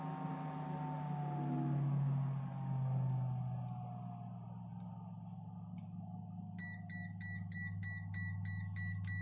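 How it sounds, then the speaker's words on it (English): A steady low electronic hum gives way to a rapid series of regular, high-pitched beeps in short even bursts from a 5.25-inch PC fan controller as a fan runs at the wrong RPM, close and insistent. "Second fan start to beeping."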